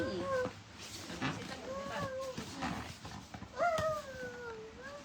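A cat meows several times, its cries rising and falling over ongoing background noise and some talking.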